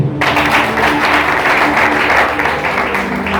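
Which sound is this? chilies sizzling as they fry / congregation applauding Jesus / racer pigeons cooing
congregation applauding Jesus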